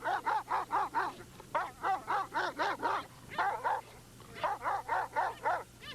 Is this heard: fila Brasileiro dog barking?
yes